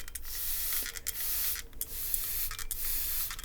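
A spray bottle misting water onto tomato plants hisses in a series of sustained bursts separated by brief pauses, close and fairly loud.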